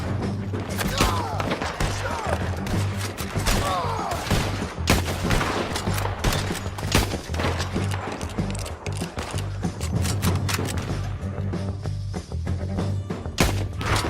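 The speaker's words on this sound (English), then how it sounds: "Keep shooting till they don't get up!" Dense, rapid gunfire from a shootout in Red Dead Redemption 2, overlapping shots and bursts cracking almost continuously, loud and close, with shouted voices mixed in among the shots.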